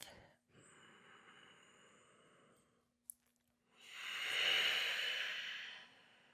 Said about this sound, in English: Using that ujjayi breath.